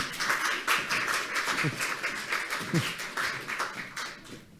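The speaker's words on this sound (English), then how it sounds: "Applause to Claudia Singer, please." Audience applause at a youth session of an EU regional annual forum: a small group claps in a brisk, uneven patter, moderately close, with a few louder accents.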